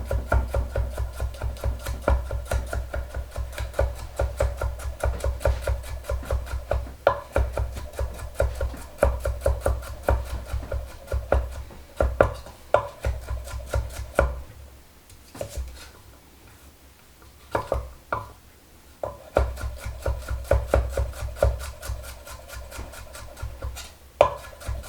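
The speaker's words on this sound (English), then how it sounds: "Slicing this broccoli nice and thin." A knife slices broccoli thinly on a cutting board for a cream of broccoli and cheddar soup, giving a steady run of quick, close chopping taps with a few short pauses and no talk.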